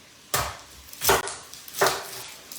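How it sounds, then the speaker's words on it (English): A big Pampered Chef knife chopping through half of a large onion, three crisp, evenly spaced thuds on a cutting board, close and clear with no talking. "we're going to chop up a good half of a, you know, good sized onion here"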